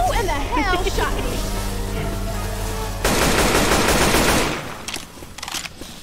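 Assault rifle fire in Left 4 Dead 2, rapid close shots crackling for a couple of seconds after a stretch of other game noise and speech, then fading into scattered quieter sounds.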